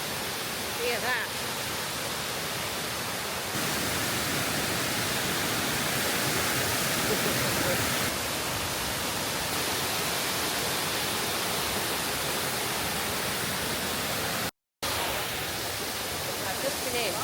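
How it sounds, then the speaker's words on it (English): Steady, loud broadband rush of a waterfall in Pu Luong nature reserve, Vietnam, continuous and unbroken for the whole stretch apart from a momentary dropout. "it's the way to the waterfall. You can already hear the sound."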